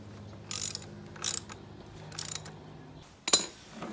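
Four short bursts of ratchet clicking from a wrench tightening the rear axle on a Yamaha PW80 motorbike, close and crisp with brief pauses between, with no talk.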